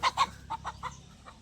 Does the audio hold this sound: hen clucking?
yes